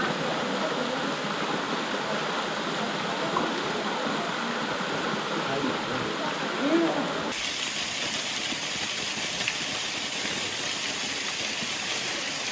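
Lower falls of a waterfall in the Catskills, New York, giving a steady broadband rush of falling water that stays loud and constant throughout, shifting to a brighter hiss partway through.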